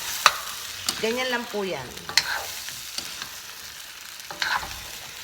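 Pinakbet vegetables, including string beans, are stirred in a pot with a few sharp clanks and soft scraping, while a voice speaks briefly over the sounds.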